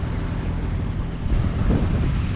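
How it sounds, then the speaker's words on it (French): Warm wind buffets the microphone on a boat heading down the Gambia River, a steady rushing roar with a stronger gust near the end and no voices. "Ah, c'est beau de sentir du vent, il est chaud."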